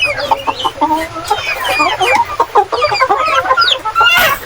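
Heritage chickens on a farm cluck and call steadily in a dense, close flock chorus with overlapping squawks, unbroken and with no talking.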